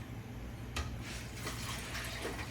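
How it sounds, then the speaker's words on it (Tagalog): Water is poured into a blender holding apples for juice, a soft, steady splashing and trickling fill that runs for a couple of seconds, fairly quiet and close. "Guys, lagyan natin tubig."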